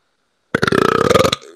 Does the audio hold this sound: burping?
yes